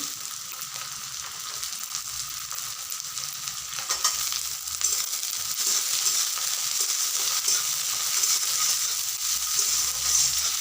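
Dried loitta fish and chopped onions fry together in oil in a pan, a close, steady sizzle that swells slightly partway through, with stirring scrapes and no talking.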